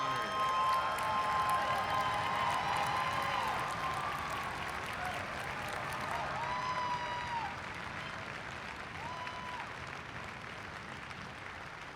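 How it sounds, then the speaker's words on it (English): Steady audience applause fills a graduate commencement ceremony at Mines, continuous clapping from a large crowd throughout with faint cheering, holding loud and only easing slightly toward the end. "So, if everybody would join us in a little extra applause for this one, because it's a big deal for us at Mines."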